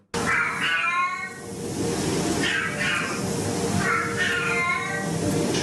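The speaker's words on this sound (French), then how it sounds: "des miaulements comme ça qu'il faut tout de suite interpréter comme un message de « je ne vais pas bien, j'ai un souci »" A domestic cat meows repeatedly, drawn-out wavering cries that may signal illness, loud and close over a steady background hum, with about four distinct calls spread evenly.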